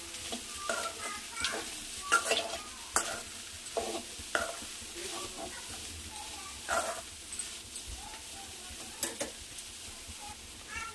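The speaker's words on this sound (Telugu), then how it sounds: "ఇప్పుడు వీటిని కలుపుదాము." Boiled black-eyed peas (alasanda guggillu) being stirred in a frying pan with salt, repeated scraping spoon strokes in an irregular rhythm over a soft sizzle, close and clear, with a dog whimpering faintly in the background.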